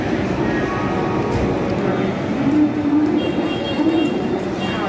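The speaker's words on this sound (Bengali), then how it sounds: "বন্দে ভারত হাওড়া স্টেশনে দাঁড়িয়ে আছে।" A Vande Bharat Express electric train stands at Howrah station, giving a steady rumbling hum among the station's ambient noise, with faint bird sounds and voices in the background.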